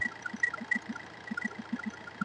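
A Tata Manza diesel car engine runs with a rapid, regular knocking pulse and a faint mechanical whine, heard quietly and alone.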